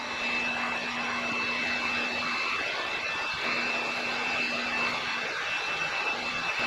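A heat gun blows hot air to warm 3M protective film on a vehicle. It makes a continuous, steady whooshing drone with a faint high whine, constant in level and heard alone.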